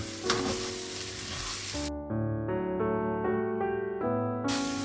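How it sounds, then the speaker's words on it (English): Small pieces of Parsi sev dough fry in hot oil with a dense hiss, then give way abruptly to music with sustained tones before the frying returns. "put it in and fry it nicely till it is nice and golden brown"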